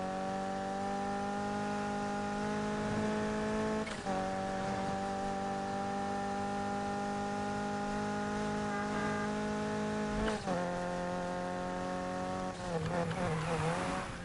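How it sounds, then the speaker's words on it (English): Game car from Need for Speed Heat on PlayStation 4 drifting, a steady loud engine drone with tire squeal and brief dips where the revs shift, ending in a wavering skid. "This thing doesn't like drifting."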